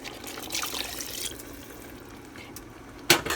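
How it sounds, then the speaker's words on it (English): Water poured from a bowl into a pot of Trinidad-style curry chicken, a soft steady wash of liquid with a sharper splash near the end, close and fairly quiet. "I am going to add in the water from in this bowl"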